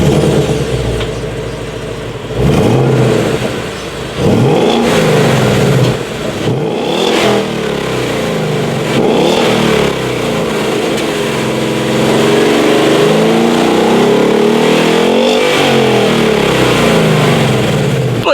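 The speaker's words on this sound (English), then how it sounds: "Here is that awesome exhaust clip." 2017 Ford Mustang GT V8 with dual exhaust and polished tips revving repeatedly, loud close blips rising and falling, then a longer sustained rev near the end.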